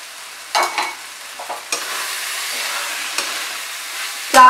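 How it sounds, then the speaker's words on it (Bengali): Rice and lentils for khichuri are sautéed in a pan, with a few loud scraping stirs over a low, steady sizzle and a final sharp scrape near the end. "চাল ডাল দেওয়ার পরে আমি আরো তিন চার মিনিট এটাকে কষালাম"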